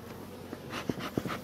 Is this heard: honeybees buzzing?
yes